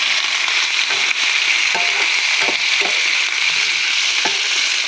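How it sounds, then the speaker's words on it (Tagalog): Chicken gizzards for Filipino adobo sauté in a hot pan, a loud, continuous close sizzle with occasional soft scrapes and knocks of a spatula stirring them. "Gisa-gisa lang sa nato."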